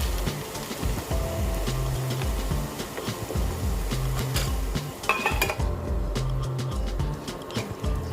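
Potatoes cooking in a covered pan for a whole-wheat potato momo filling, with steady clattering of pot, lid and utensils and a low continuous sizzle throughout, loud and close.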